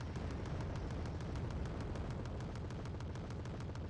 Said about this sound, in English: There's the cluster bombs.